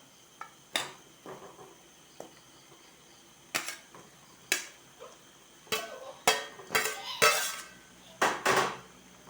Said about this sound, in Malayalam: മസാല റെഡിയായി അതിലേക്ക് വറുത്ത ചിക്കൻ ഇട്ട് കൊടുക്കുക